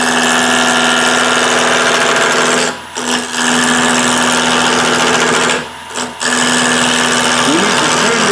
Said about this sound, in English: We have the lathe at about 1200 RPMs